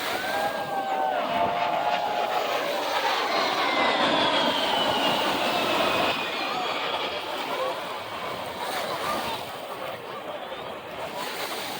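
An A-10 attack jet roars overhead, its engine whine sweeping loud then slowly fading into the distance, with a steady rushing noise underneath, at a beach landing display on Miami Beach.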